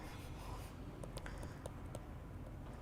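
Chalk or marker scratching on a board during a mathematics lecture, a few short light strokes over a steady room hiss, faint and close, with no talking.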